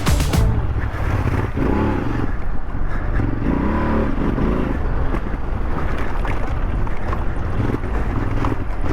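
Rally motorcycle on a stage through a forest along a tough, twisting track, engine droning steadily close by under heavy wind buffeting on the microphone.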